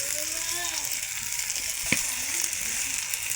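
Curry frying in a pan in a rural village kitchen just after chili powder goes in, a steady close sizzle running throughout with a brief sharp clink of a utensil near the middle.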